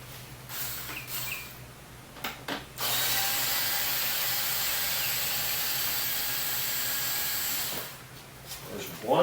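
Screws being removed by hand from a BMW F650 ST Funduro motorcycle, a steady broadband mechanical rasp from about 2.7 to 7.8 seconds, close and fairly loud, with brief clicks and handling noises before and after.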